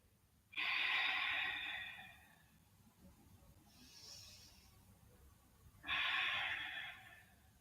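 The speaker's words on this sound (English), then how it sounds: "Taking a few breaths here." During a yoga practice, slow, close breathing sounds: a long, audible exhale, then a softer, quieter breath, then another strong exhale, each separated by calm pauses.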